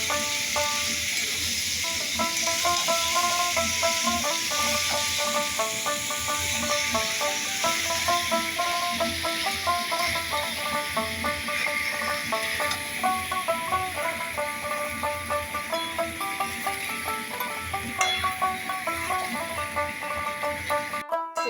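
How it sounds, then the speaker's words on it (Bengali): Young jackfruit frying with spices in hot oil gives a continuous hiss and sizzle throughout, heard beneath steady background music with a melodic pattern. "এখন কাঁঠাল দিয়েও খুব মশলাটা ভালো করে মিশিয়ে নিয়ে কষিয়ে নেব।"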